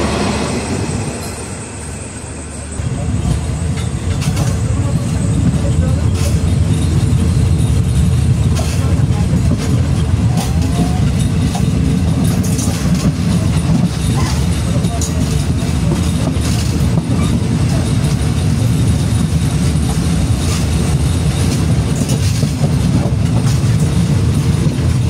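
An old Thai passenger train rolls along in third-class economy, heard from inside the carriage as a steady, loud rumble with wheel clatter that swells after a quieter opening and holds for the rest of the stretch.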